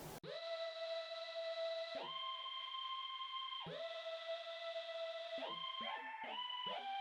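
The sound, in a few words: Vintage Box Organ virtual instrument melody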